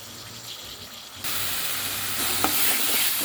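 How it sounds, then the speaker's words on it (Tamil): Chutney ingredients sautéing in oil in a pan: a low background sizzle that suddenly jumps to a loud, bright frying hiss, with a brief scrape of stirring partway through, close and continuous. "இது நல்லா சுண்ட சுண்ட வதங்கிட்டோம்"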